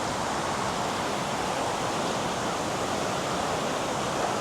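River water flowing steadily over a stony bed at a campground in Kampar, Perak, a continuous close rushing wash with no pauses and no voices.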